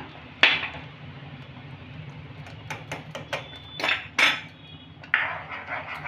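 A spoon stirs mango pulp with lemon juice in a pan over a low gas flame. Sharp metallic clinks and scrapes come at irregular intervals over a quiet, steady background.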